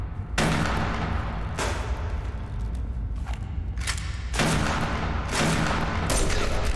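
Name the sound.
gunfire in video game Subsistence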